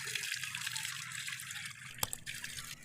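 Water runs and trickles steadily at a low level, with a soft continuous flow and a brief sharper splash partway through.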